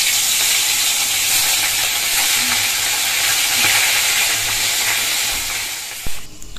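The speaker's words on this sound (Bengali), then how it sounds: "আগে ভাজা খাওয়ার মাছগুলোই ভেজে নেব।" Fish rubbed with salt and turmeric fries in hot oil in a pan, giving a loud, steady sizzle with spitting crackles that runs throughout, then thins near the end as a soft clunk of a utensil breaks in.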